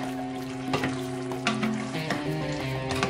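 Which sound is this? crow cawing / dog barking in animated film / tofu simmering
tofu simmering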